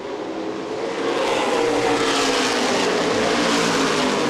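Late model stock cars roar around Winchester Speedway at a CRA Late Model Sportsman race, engines building to a loud, sustained full-throttle drone as the field passes close by.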